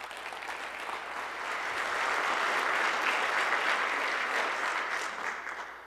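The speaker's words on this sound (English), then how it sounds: "let's give them a round of applause" An audience applauding steadily, swelling slightly in the middle and holding for several seconds before easing off.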